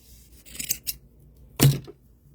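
Scissors snip through ribbon trim being cut for doll hair, a few quick close crisp cuts followed by one louder snip, with no talking.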